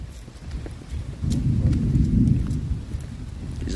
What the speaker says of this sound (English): I hope y'all can hear the thunder on the like feedback.